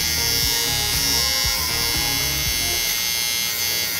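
A Moser electric hair trimmer runs continuously with a loud, even motor buzz close to the microphone, heard alone without any talking.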